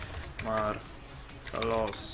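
Soft clicks from a computer keyboard as a nickname is typed into the Technic Launcher login window, the brief taps partly covered by a speaking voice.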